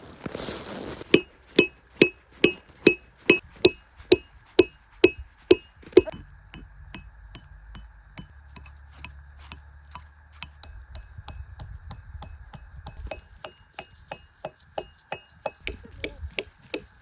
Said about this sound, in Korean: 망치는 너무 무거워서 자꾸 튕겨요.